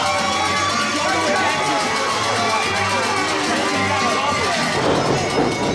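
An arena crowd roars at a wrestling event as Cowpoke Paul makes his entrance, a loud, continuous wall of cheering and hubbub that stays steady throughout with no break.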